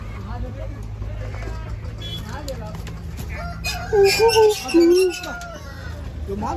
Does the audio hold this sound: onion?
no